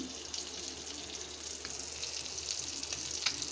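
Koi fish frying in hot oil, a steady hiss of sizzling with faint crackles and pops, close and fairly loud, running the whole time with no talk.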